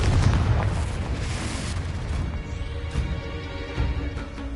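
A Confringo fire spell bursting in Hogwarts Legacy, a loud booming explosion at the start that rumbles and fades into crackling game ambience.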